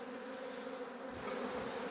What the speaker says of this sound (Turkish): arıyı içine silkeleyebilirdim ama fark etmez yani, buraya da silkelesem olur